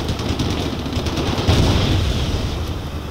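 Heavy gunfire in a military shooter video game, a dense continuous rattle of shots with booming low rumble, loud and close, swelling midway through.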